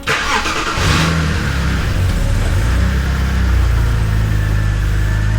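A BMW convertible's engine runs close by while the car sits on a hill, a loud steady drone with a brief rev near the start, then settling into an even idle.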